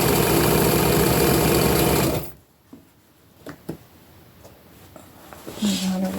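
A sewing machine runs steadily for about two seconds while sewing in elastic on an upcycled tunic, then stops, leaving soft handling noises of fabric, and a voice speaks near the end.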